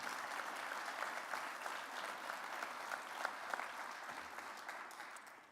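Even, continuous clapping from a hall audience at the Akureyri 2024 sports awards ceremony, fairly faint and distant and tapering slightly at the end, with no one talking.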